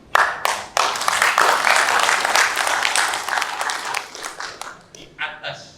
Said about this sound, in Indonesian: Menurut saya minta untuk hal ini kita tepuk tangan bersama.